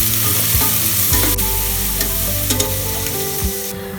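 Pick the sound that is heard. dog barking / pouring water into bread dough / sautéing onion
sautéing onion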